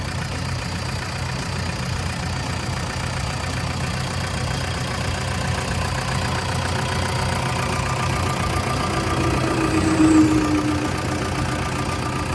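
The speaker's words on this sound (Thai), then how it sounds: "เสียงเครื่องเนี่ยก็ทำงานได้แน่นดีปกติเลยนะครับ" An Isuzu 4LE2 four-cylinder turbo diesel in a Hitachi ZX70-3 seven-ton excavator idles with a steady, even rumble, heard close up and alone, with a brief faint whine near the end.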